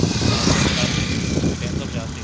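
A 385 tractor engine runs with a rough, steady mid-pitched rumble as it starts pulling a trolley loaded with soil, loud and close, with people talking over it.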